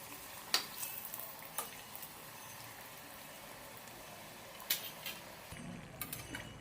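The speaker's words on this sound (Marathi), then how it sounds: "आपण ते आता पलटून घेऊया आणि दुसरी साइडही तळून घेऊया।" Sabudana and potato triangles shallow-frying in oil over a low flame, a faint steady sizzle with occasional sharp taps and scrapes of a utensil as the pieces are turned.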